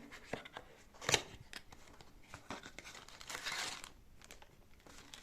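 Packaging of a Starcom lapel microphone being opened: close, dry crinkling and tearing, with a sharp rip near the start and softer rustling continuing throughout, no talking.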